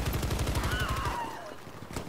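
Rapid automatic gunfire in Battlefield V, a fast even rattle of shots for about a second, then a descending whine and quieter game noise.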